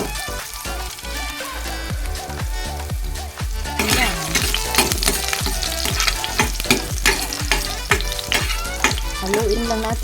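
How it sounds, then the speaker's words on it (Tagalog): Garlic fries in hot oil in a pan while cooking sarciadong bangus. A steady close sizzle runs throughout, with stirring scrapes, and it grows louder and crackles more partway through. "Haluin lang natin ang bawang natin hanggang sa mag-brown."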